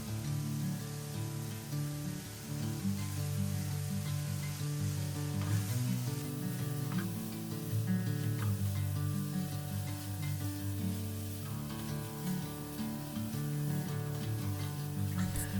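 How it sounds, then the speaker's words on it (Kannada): Vegetable stuffing for wheat momos fries in a pan with a continuous close sizzle, a few light stirring scrapes, and no voices. "ಸೊ ವೆಜಿಟೇಬಲ್ನ ಸ್ವಲ್ಪ ಫ್ರೈ ಮಾಡಿದರೆ ಆಯಿತು."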